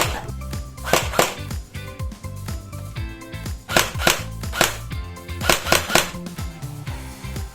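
A TG G36C gel blaster test fires on a 7.4 V battery, giving sharp, snappy shots in an irregular rhythm of single cracks and quick pairs, close and loud with no talk.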